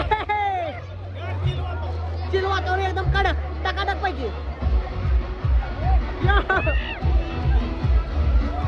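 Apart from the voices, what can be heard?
crowd at a waterpark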